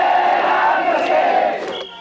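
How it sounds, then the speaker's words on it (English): Organized rooting section at a Japanese ballpark cheering in unison, a loud, dense crowd chant with strong voices sustained throughout, then trailing off near the end as a single tone lingers. "Organized rooting sections perform cheers and routines that make the wave look like low tide"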